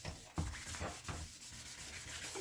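Abrasive grit sands road grime off a car headlight with soft, steady rubbing strokes, quiet and close.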